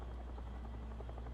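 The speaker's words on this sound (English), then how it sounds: "I hear a helicopter, and it ain't ours" Enemy helicopter in the War Thunder video game, a continuous low rotor drone, faint and distant, with no talk over it.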